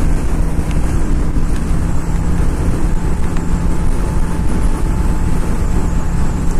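A Honda Shadow 750 motorcycle cruising at highway speed, a loud constant engine drone blended with heavy wind rush, steady throughout with no talk.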